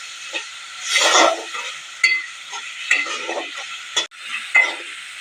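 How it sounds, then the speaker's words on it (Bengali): Crushed ginger and garlic paste frying and being stirred in a pan for Bengali fish pulao, with intermittent sizzling hisses and scraping stirs, close and moderately quiet. "আদা থেতায় নিয়েছিলাম এটা দিলাম, আর রসুন দিলাম। এখন ভালো করে কষাই নেব।"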